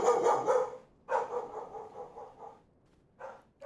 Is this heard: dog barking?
yes